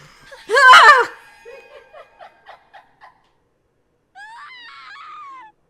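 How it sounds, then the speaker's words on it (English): A sharp scream rings out in the horror video game The Letter, followed by a string of short, fading chuckling bursts and then a thinner, wavering cry that trails off. "Sorry for the scream."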